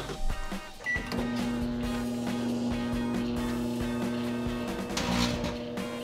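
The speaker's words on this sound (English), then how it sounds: "I'm actually gonna show you what happens if you try to microwave the face mask." A microwave oven runs with a face mask inside, giving a steady electrical hum and drone after a brief click at the start, with no talking.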